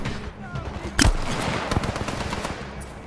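Rapid automatic gunfire in the video game Titanfall 2, a sharp loud burst followed by sustained rattling shots and combat noise.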